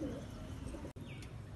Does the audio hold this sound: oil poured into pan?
no